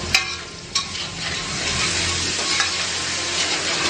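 Rice being stir-fried in a pan for nasi goreng rica kemangi gives a steady, close sizzle, with a few sharp scraping clanks of the spatula near the start and no talking.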